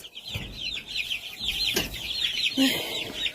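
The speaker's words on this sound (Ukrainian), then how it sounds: "Бо це ж бентамки такі квочки, що літають добряче." Broody bantam hen clucking in a coop, a run of close, soft throaty clucks with a few louder bursts over a short span.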